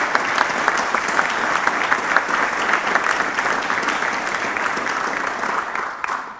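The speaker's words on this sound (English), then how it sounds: "I think they actually require a big applause" An audience at a Nordic military summit conference applauds the organizers with even, continuous clapping lasting over six seconds, fading slightly at the end.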